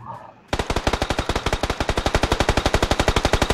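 Rapid automatic gunfire in the battle royale game PUBG Lite, a long, loud, steady burst of evenly spaced shots after a brief lull, with no talking over it.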